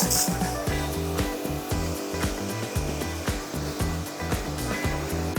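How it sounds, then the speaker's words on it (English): A power washer pre-rinses a car before a hand wash, its motor running steadily and loudly with a pulsing drone and spray hiss, alone with no talk. "I have a power washer, so I'm going to use that"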